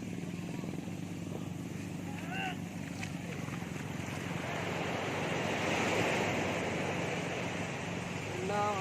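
Ocean waves wash and roll onto the shore at Dinggalan, a continuous broad rush that swells louder midway, mixed with wind buffeting the microphone and voices talking nearby.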